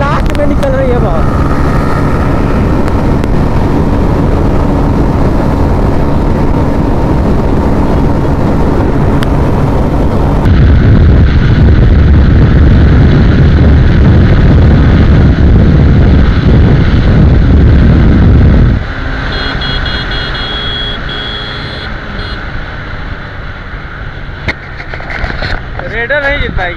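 Loud, steady engine roar of a Bajaj Pulsar N150 and a TVS Raider 125 in a drag race, with the pitch rising and falling as engines rev, continuing with people talking over it.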